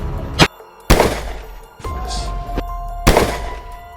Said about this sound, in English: Diego, one of our hunters, raises his rifle and fires decisively.